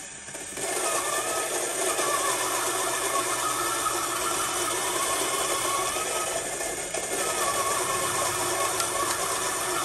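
An espresso grinder works steadily through coffee beans for the full span, a continuous close whirring grind with a slight fluctuating buzz, alone with no talk.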